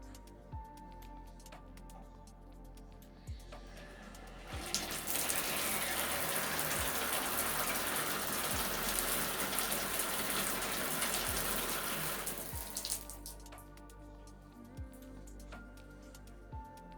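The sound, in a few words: shower water running while rinsing a hair mask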